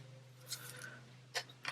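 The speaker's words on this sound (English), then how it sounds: "These are a pair of embroidery scissors that I have right here next to me." Small curved embroidery scissors snip a few quick, crisp times close by over a faint steady hum, with no talking.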